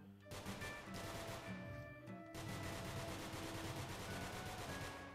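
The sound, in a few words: gunfire in the video game NONGUNZ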